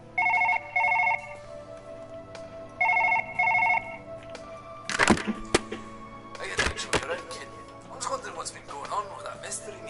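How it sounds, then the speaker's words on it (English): A phone rings in a video game with a hospital-style doctor setting, repeated double-burst electronic rings in two clear groups, followed by clattering thunks and handling noises, fairly close and moderately loud. "Oh, phone call."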